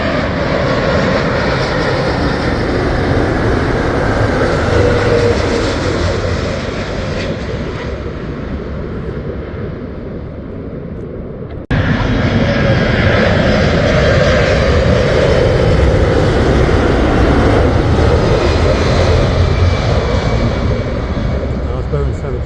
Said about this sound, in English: A350, British Airways coming from Texas